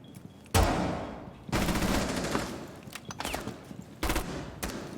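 Gunfire rattles through a Rainbow Six Siege match: several sharp bursts of automatic shots, loud and close, separated by brief quieter gaps, with faint game ambience between volleys.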